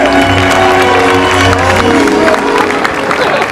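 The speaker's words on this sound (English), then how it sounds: "Let's give them a big round of applause here." At an orca show at SeaWorld San Diego, a packed stadium crowd claps and cheers loudly and steadily, with scattered shouts and music running underneath.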